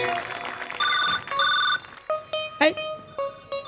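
A telephone ringtone chirps in short repeated bursts, close and clear, alternating with brief pauses amid a lively Marathi comedy sketch setting.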